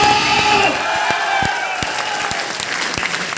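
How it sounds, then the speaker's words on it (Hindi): A crowd at a Safe Shop gathering in Nawadah breaks into loud, sustained applause with cheering, the dense clapping filling the whole stretch close to the microphone. "निकालो हाथ, बजाओ ताली।"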